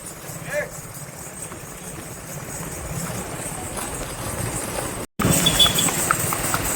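A horse walks nearby, its hooves clip-clopping faintly beneath people talking, against a steady outdoor background.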